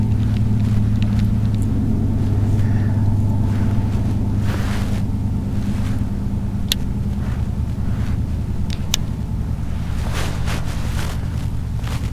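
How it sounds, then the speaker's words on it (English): Steady wind rushes and buffets across the microphone during bass finesse fishing outdoors, a constant low roar with a faint engine hum underneath and occasional light clicks and knocks, with no talking. "Gonna have to wait for this wind to die down."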